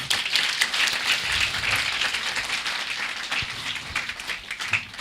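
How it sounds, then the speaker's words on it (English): Conference audience at a palliative care meeting applauding, a full, continuous burst of clapping from many people, fairly loud and close, holding steady for five seconds without talk. "And I believe she deserves a stronger clap."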